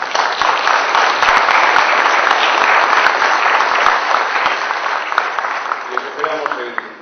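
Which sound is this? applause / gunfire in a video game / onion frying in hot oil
applause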